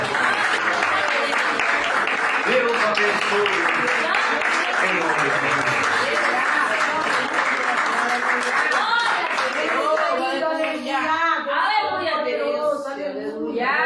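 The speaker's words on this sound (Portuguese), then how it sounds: "Levante a mão mais alto que você puder e aplauda Jesus Cristo." A church congregation applauds continuously and loudly throughout, a dense wash of clapping that carries on under a preacher's voice speaking over it, the clapping thinning slightly near the end.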